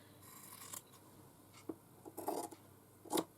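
Scissors snip and trim fabric during hand stitchery, a few quiet, brief cutting crunches spaced out over near-silent room tone, with a denser cluster of snips toward the end.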